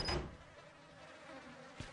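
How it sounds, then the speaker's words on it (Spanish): Flies buzz in the horror video game Outlast, a faint, thin steady drone in a rotten-smelling room, with a brief brighter burst at the start. "Suenan moscas"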